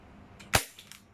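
A single sharp crack of a Ruger MK1 airsoft pistol firing 0.25 g BB pellets, preceded by a faint click and followed by a couple of soft taps, close by in a quiet space.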